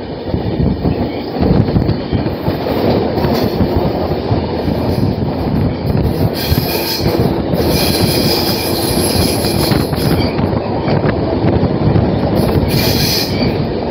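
The Chennai Mail train rolls across the Godavari river's road-cum-rail bridge, a loud continuous rumble of wheels on rails with rhythmic clatter and occasional high metallic squeals, heard from on board.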